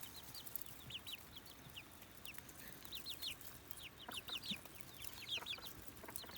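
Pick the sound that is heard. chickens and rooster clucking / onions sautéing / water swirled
chickens and rooster clucking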